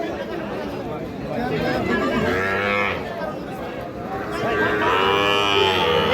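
Cattle moo at a small-calf market where young bulls and heifer calves are sold, with two long, loud calls rising over steady crowd chatter and people talking nearby.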